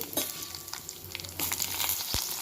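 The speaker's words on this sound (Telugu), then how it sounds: "స్టవ్ మీద గిన్నె పెట్టి ఆయిల్ వేసాను, మినపప్పు వేసాను, జీలకర్ర, పచ్చిమిరపకాయలు కూడా వేసుకున్నాను" A quiet tempering of urad dal, cumin and green chillies sizzles in oil in a pot on the stove, a soft continuous frying hiss broken by a few light stirring clicks, with no voices.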